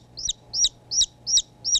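A newly hatched chicken chick, hatched in an electric frying pan used as a makeshift incubator, gives five loud, evenly spaced high chirps, close and clear over quiet background.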